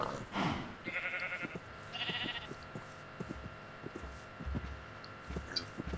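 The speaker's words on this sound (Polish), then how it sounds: "No dobra, idzie owca." Two short sheep bleats early on in Minecraft, game-like and moderately loud, followed by soft clicking and rustling noises.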